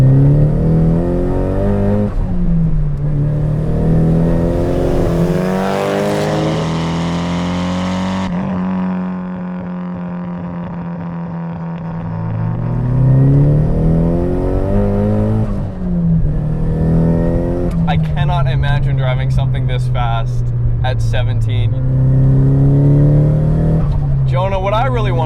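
Nissan Silvia S15 Spec-R turbo engine pulling hard at about 1 bar of boost, loud rising revs through several gear changes with a brief lift-off lull, heard from inside the car with a voice talking over it.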